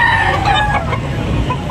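Rooster crowing at a backyard chicken market in Tabunok, Talisay, Cebu, with clucking fowl around it, steady and close throughout a continuous noisy stretch.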